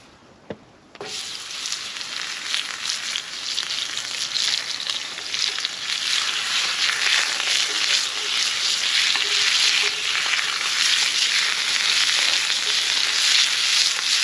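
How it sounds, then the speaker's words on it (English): Meat browning in a Dutch oven outdoors, a loud continuous sizzle that starts abruptly after a brief quiet moment and holds steady with faint stirring scrapes. "So let's get this meat browned."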